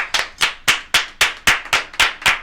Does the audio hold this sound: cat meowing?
no